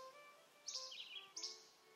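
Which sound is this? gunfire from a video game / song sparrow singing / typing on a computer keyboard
song sparrow singing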